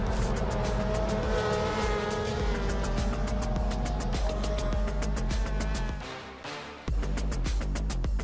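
A Skoda rally car in a RallyX race engine loud and continuous as it half-spins, with a brief dip in level near the end before the roar resumes; crowd-level racing noise throughout, no talk.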